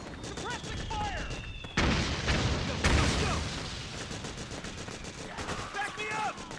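Bursts of gunfire in Metal Gear Solid 4, sharp loud volleys and machine-gun rattle mixed with battlefield noise and shouted voices, with a sudden heavy blast partway through.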